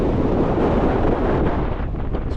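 Strong wind buffeting the microphone on the exposed edge of Lonscale Crags, a loud continuous low roar that fills the whole stretch with no other sounds.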